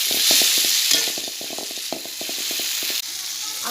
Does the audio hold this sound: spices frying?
yes